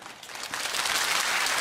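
Church congregation at a New Year's Eve service breaking into applause, the clapping swelling from quiet to a full, steady roar.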